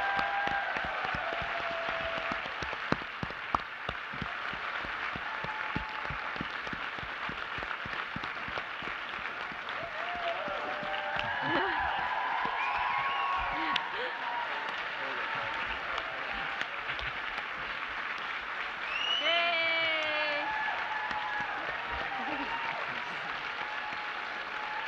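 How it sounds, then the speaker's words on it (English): An audience at a tech conference applauds a hackathon team called onto the stage, a broad sustained clatter of many hands with a few whoops and voices rising over it, steady for the whole stretch. "let's give them a big round of applause"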